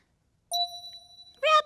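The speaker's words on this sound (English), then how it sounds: "Listen for the bell." A single clear bell ding rings out and lingers briefly, followed by a short burst of a voice right after.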